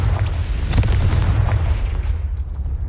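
A Confringo fire spell explodes in the video game Hogwarts Legacy, giving a loud, deep, rumbling boom that swells and rolls on for about three seconds, with no talking.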